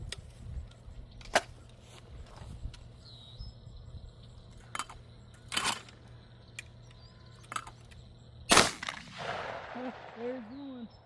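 Puma Lynx 12 gauge airsoft shotgun firing two shots at clay targets outdoors, sharp cracks spaced several seconds apart among other short pops, with a steady low hum and faint bird chirps in the background.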